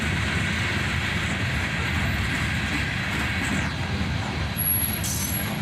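Southbound CSX local J783 with EMD locomotives rolling past, a steady loud rumble of wheels and engines with faint rail noise and a brief high squeal near the end.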